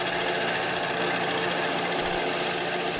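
A lathe gouge cuts a spinning walnut and tigerwood bowl, giving a steady dense whirring hiss with a faint low thump, continuous and close.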